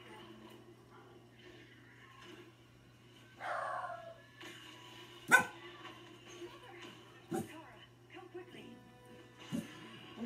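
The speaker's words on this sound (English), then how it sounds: "I'm sorry for the dog's barking." A dog barks a few times in the background of an indoor room, with sharp separate yaps spaced over several seconds and a steady low hum underneath, while a person talks.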